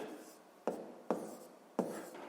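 A pen writes numbers on paper in three short scratchy strokes, each a sharp onset fading away, quiet and close with a soft room hum beneath.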